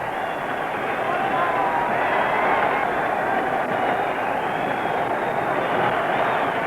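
A roaring crowd at an outdoor heavyweight boxing match cheers a fighter's arrival, heard as a dense, unbroken, muffled wall of noise on an old recording, with some voices mixed in.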